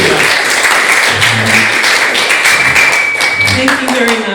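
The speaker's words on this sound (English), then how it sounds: "So give Natasha a big round of applause." Crowd applause for a singer at a talent showcase event: continuous clapping that fills the room, with voices and some tonal sound mixed in beneath it throughout.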